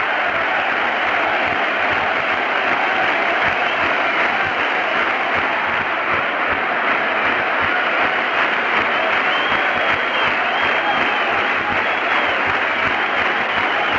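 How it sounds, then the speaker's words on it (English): A baseball crowd at a 1979 Orioles vs. Yankees game applauds in tribute to the late Thurman Munson, a vast, loud, unbroken ovation filling the stadium and holding steady for the whole stretch. "Almost like the applause would bring Thurman back."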